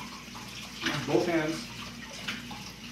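Tap water runs over fingers as they are rinsed after cracking eggs for lemon curd in a home kitchen. The splashing swells for a moment under close, casual talk.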